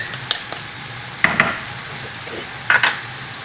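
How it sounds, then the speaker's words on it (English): About four tablespoons of finely minced garlic sizzle in a pan for spicy crab pasta, a steady frying hiss broken by sharp clicks and taps of a spoon stirring against the metal, with no one speaking. "Then we're going to add some garlic."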